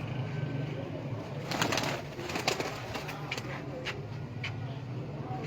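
Ferozpuri pigeons give low coos from close by, with a few brief rustles and wing sounds over a faint background hum.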